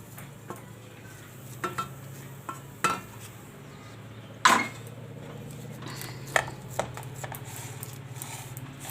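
Metal utensils clink and scrape against a steel plate as cooked puran filling for puran poli is moved off the stove, scattered knocks and one louder clatter over a faint steady hum.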